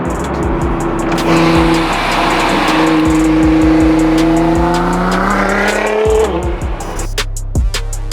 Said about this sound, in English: that one's got a 4-inch exhaust, which means we gotta put this back into race mode now